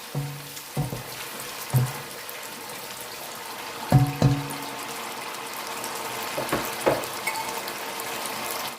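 Tomato simmering in a pan while cooking Tiéré Mboum, a steady low sizzle and bubble with a few sharp utensil knocks and clinks on the pan rim.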